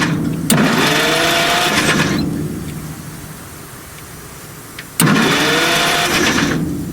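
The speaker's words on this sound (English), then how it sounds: "I guess we'll give her a crank and see if we got spark" Starter cranks the engine of an old rusty Bucyrus Erie 10b cable excavator in two loud bursts, each a couple of seconds of grinding churn near the microphone, with a quieter rumbling pause between them.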